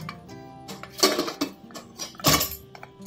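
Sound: closing the pressure cooker lid

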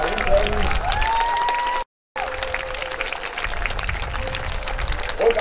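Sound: audience applause at a knights' tournament

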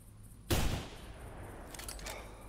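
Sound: rifle gunshot in the video game theHunter Classic

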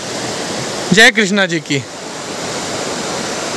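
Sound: water dripping in Tupkeshwar temple cave

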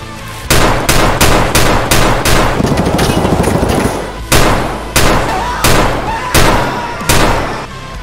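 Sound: Chiappa Rhino 200DS revolver gunfire in video game Tarkov

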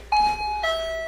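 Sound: motion sensor doorbell chime

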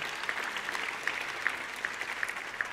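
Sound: audience applause for event staff

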